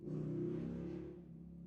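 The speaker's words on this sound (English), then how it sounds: "A lot of very loud cars driving by my house." A loud car drives past a house, a low engine rumble swelling and then gradually fading over a second or two.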